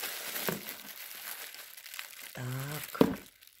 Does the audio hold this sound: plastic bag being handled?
yes